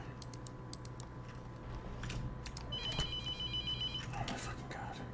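A phone in the horror game The Mortuary Assistant 2 rings with a repeating electronic trill, playing over a steady background hum and faint clicking.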